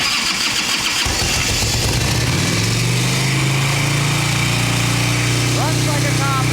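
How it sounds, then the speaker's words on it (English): A 1989 Ultra Classic Tour Glide motorcycle on full choke, its engine catching and revving up into a loud, steady high idle, close to the microphone, with someone talking briefly near the end. "If I go full choke, this thing's gonna rev up to 4 grand"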